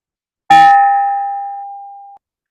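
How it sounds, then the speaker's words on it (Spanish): A single bell struck once to close a Rotary club session, a bright ring with a sharp attack that decays slowly over about two seconds, alone with no talk. "finalizamos con nuestro toque de campana"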